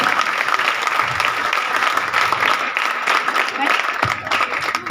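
A crowd at a B.R. Ambedkar Gurukul school prize giving breaks into dense, sustained applause, loud and close, with speech mixed into the clapping throughout.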